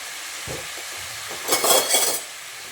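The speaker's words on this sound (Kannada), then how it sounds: "ಈ ಕಡೆ ಹಾಕಿದಂಥ ಪಲಾವ್ ಎಲೆ ಮತ್ತು ಪುದೀನ ಎರಡು ಎಣ್ಣೆಯಲ್ಲಿ ಫ್ರೈ ಆಗ್ತಾ ಇದೆ" Bay leaves and mint fry in hot oil for a mushroom and green pea gravy, giving a steady low sizzle that swells into two louder crackling bursts near the end, with no talking.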